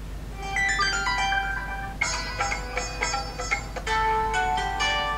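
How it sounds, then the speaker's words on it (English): A Huawei Ascend G300 phone plays its pre-installed ringtones, a series of bright, bell-like electronic melodies, switching tunes partway through, clear and close with no talking. "that's the pre-installed ringtones on the phone that you can select from"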